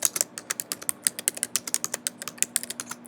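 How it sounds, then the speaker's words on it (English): Typing on a computer keyboard: a steady run of quick, distinct key clicks at close range with no voices, about three seconds long. "I am going to type the name of my assignment"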